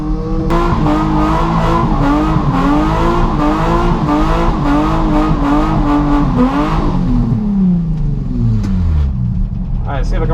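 Drift car at a Driftcup round at Teesside, fitted with fresh tyres, revs hard in a loud sustained run with pulsing engine notes, then the pitch drops away near the end amid tyre noise, close and continuous.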